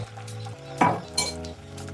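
Ginger-garlic paste is added to a pan and stirred with a utensil, giving a couple of sharp scraping clinks of metal against the pan over a low steady hum.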